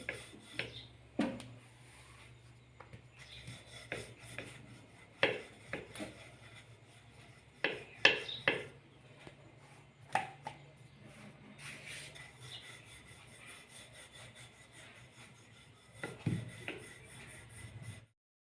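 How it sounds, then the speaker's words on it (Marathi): A rolling pin works dough for cashew shankarpali, giving soft, intermittent rubbing and light wooden knocks in uneven strokes, quiet and close with no talk. "जेवढी लाटता येईल तेवढी लाटायची आहे"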